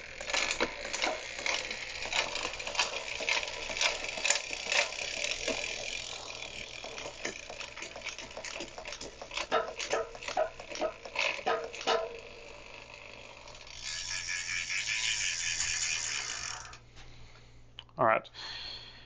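SRAM AXS Force electronic bicycle derailleur shifting up and down the gears several times, with rapid clicking and ratcheting bursts, whirring chain and motor sounds, then a sharp final sweep, all heard close up.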